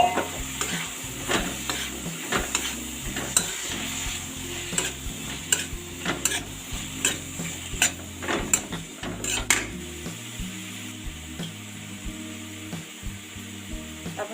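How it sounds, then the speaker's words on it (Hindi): Raw papaya pieces dropped into hot masala in a pan, sizzling steadily while a spoon scrapes and stirs against the metal in repeated knocks and clatters, close up with no talking. "अब हम इसमें डाल देते हैं अपना ये पपीता"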